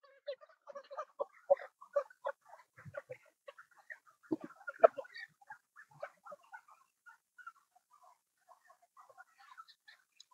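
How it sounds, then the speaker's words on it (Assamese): Hens on a clean poultry farm cluck and chatter in scattered bursts, some louder calls near the middle, with quieter intermittent clucks trailing off and no talking. "মুৰ্গী ধুনীয়াকৈ চাফা হৈ আছে"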